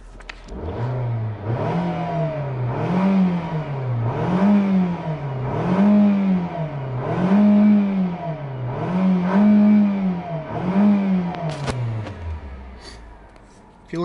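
A 2014 Nissan Sentra engine revs in a steady repeating pattern, rising and falling about every second, close and fairly loud, with a brief clatter near the end.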